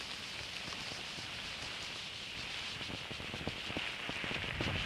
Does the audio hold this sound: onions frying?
no